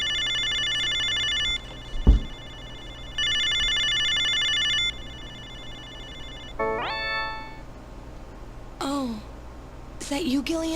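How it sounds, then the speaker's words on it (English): A video phone in the Snatcher video game rings with two long, bright electronic bursts separated by a pause, followed by rising synthetic tones and short voice-like sounds, all fairly loud and close. "Alright, let's use a video phone."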